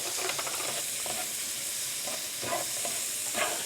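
Shallots sautéing in melted butter in a pan, giving a soft, continuous hiss with occasional clicks and scrapes of stirring, close and unaccompanied by speech.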